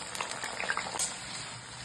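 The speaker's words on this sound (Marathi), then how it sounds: "आता आपण याच तेलामध्ये भाज्या तळून घेऊया" Vegetables for veg biryani fry in hot oil, a soft crackling sizzle with scattered pops, steady and close, with no talk.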